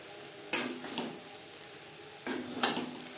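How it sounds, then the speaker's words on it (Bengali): Sabudana being stirred with vegetables and spices in a pan over low to medium flame, two bursts of spoon scraping against the pan around a faint background sizzle, with no talking. "সবজির সাথে ও মশলার সাথে সাবুদানা বেশ ভালো করে মিক্সড করে দেব। 2-3 মিনিট লো টু মিডিয়াম ফ্লেমে নাড়াচাড়া করে নেব।"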